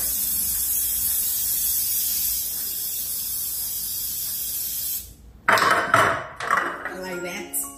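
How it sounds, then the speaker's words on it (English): An aerosol cooking spray can hisses steadily for about five seconds onto a muffin pan, then stops and gives way to clinking of metal pans and utensils nearby. "And then spray the surface of my muffin."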